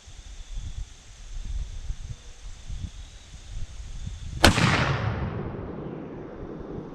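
A single loud revolver shot with buckhorn sights, fired at an outdoor shooting range, cracks sharply after a few seconds of low breezy rumble, then decays in a long rolling echo.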